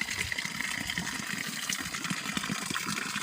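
Water gushes steadily from a spout beside rice terraces in the hills, a continuous close splashing rush with no pauses.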